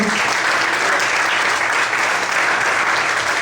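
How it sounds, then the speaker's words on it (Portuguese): A church congregation applauding during a service, a dense, steady burst of clapping that fills the space for several seconds at moderate loudness. "Vamos aplaudir o Senhor Jesus Cristo."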